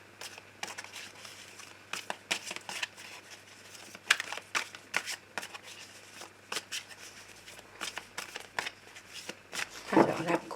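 Tarot cards being shuffled and cut by hand, producing a close, soft series of quick riffling snaps and flicks throughout, with speech faintly mixed in.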